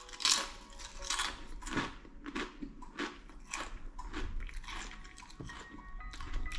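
Close, crisp crunching as chili and sour cream Kettle Chips are bitten and chewed, a rapid irregular run of sharp crackles with brief pauses between bites and no talking.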